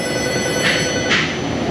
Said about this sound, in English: So that's the phone ringing.